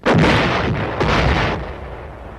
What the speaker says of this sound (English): And so, a howitzer lets one go